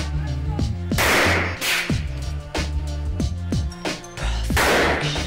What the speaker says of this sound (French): la pétarade finale dans la banque, où tu as quasiment des mecs qui sont repoussés au fond de la pièce, sous les balles des magnums